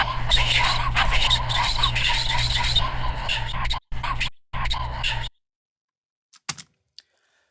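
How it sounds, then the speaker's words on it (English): Whispered voice processed through the AB Stutter plugin, a dense breathy hiss chopped into abrupt gated cuts and stutters, then near silence broken by a couple of short clipped fragments. "as soon as I insert AB Stutter, it sounds like this."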